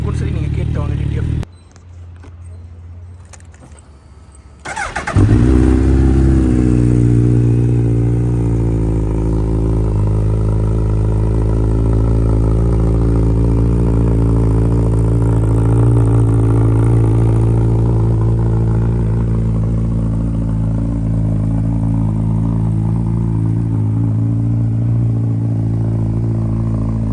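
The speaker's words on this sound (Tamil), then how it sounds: "இப்போ வந்து அந்த எக்ஸாஸ்ட் நோட்டு கேட்டு பார்த்துட்டு வந்திருப்பீங்க." A Suzuki Hayabusa with a full Akrapovic exhaust system fires up after a short quiet stretch, then settles into a loud, deep, steady idle that rumbles on close by for over twenty seconds with slight pitch wavers.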